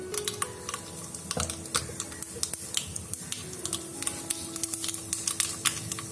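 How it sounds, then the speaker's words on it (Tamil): Rapid, irregular crackling and popping of mustard seeds spluttering in hot oil for a prawn and okra curry tempering, close by and steady throughout. "கடுகு பொரிய ஆரம்பிச்சதும்"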